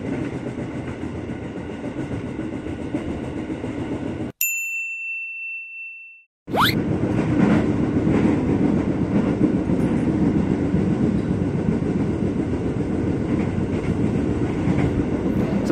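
A KRL commuter train between Depok and Citayam rumbles steadily along the rails at night with rhythmic clatter, then cuts out abruptly; a sharp ding sounds in the gap before the rolling noise resumes.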